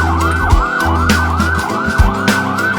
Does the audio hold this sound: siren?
yes